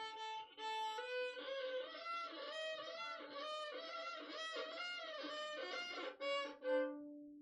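A violin is bowed with up-bow strokes, sounding a string of sustained, somewhat wavering notes one after another, close and alone with no talking.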